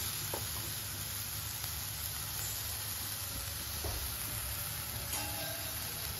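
Moth bean curry with coriander-cumin powder sautéing in a pan over low heat, giving a steady soft sizzle with faint stirring scrapes throughout.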